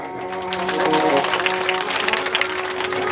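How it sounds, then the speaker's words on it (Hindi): Applause from the audience in a pandal during a Shrimad Bhagavat katha religious discourse at Nagla Akola, steady clapping filling the space with a sustained tonal drone running underneath. "सभी लोग ताली बजाएं एक बार।"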